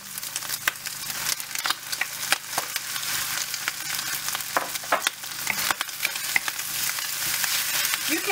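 Rice stir-frying in a hot pan for pork fried rice, with a steady, close sizzle broken by scraping and tossing sounds throughout.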